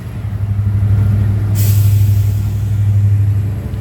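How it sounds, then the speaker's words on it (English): A Union Pacific train rolls past with a loud, steady low rumble, and a sudden hiss of released brake air cuts in partway through. "Train is moving."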